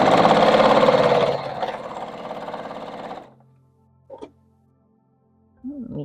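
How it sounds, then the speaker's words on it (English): Sewing machine stitching a quilt seam, a close rapid whirring for about three seconds that then stops, followed by a few faint clicks and handling noises. "we're going to sew this seam"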